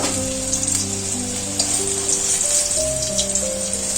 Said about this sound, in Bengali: এই কাঁচা কলাগুলো নুন আর হলুদ দিয়ে ভাজা হয়ে গেল